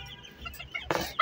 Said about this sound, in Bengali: আর পূর্বের মতোই আমাদের এই দেশি মুরগি